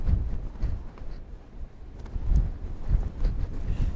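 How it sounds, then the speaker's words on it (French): Strong coastal wind on the Scottish shoreline buffets the microphone in a steady low rumble with gusty surges throughout, loud and close, with no voices. "Il y a tellement de vent, c'est très difficile."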